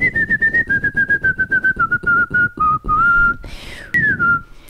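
Someone whistles a song close by, a clear melodic line of short repeated notes followed by longer sliding pitches, loud and alone.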